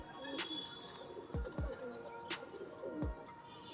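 Soft, low coos of Kaldama pigeons repeat a few times close by, with faint chirps and background noise between them.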